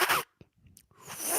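A beatboxer's voice imitates a clothing zipper, a short pair of breathy rasping zips between brief pauses, close and alone, framed by louder vocal percussion at the start and end.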